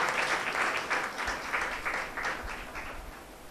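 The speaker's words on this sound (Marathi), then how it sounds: "अजून बस टाळ्या बसवा त्यांच्यासाठी" A church congregation applauding a married couple, dense rapid clapping from many hands filling the room, steady and close for the whole stretch without talk.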